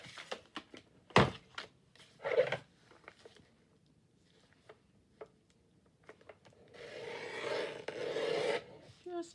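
Paper for a collage being cut down with scattered snips, rasping cuts and thumps, with longer scraping passes near the end, fairly close and alone.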